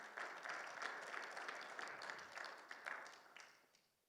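Warm audience applause during a church Bible seminar, a dense crowd of clapping hands that holds steady for a few seconds and then fades away.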